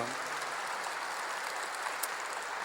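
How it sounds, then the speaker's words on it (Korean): A church congregation applauds together after the pastor calls for a big round of clapping, a steady dense wash of hand claps that continues evenly throughout without any voices rising above it. "박수 한번 세게 다 치세요"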